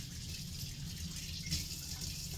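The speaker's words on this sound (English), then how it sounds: "Let me wash my hands here a little bit." Hands washed under a running kitchen tap, a steady close stream of water splashing with a slight swell midway, no voices.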